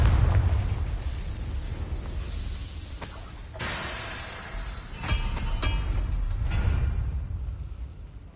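A Confringo fire spell in the Hogwarts Legacy video game: several sharp bursting blasts and booms over a few seconds, the strongest later on, set against a rumbling game background.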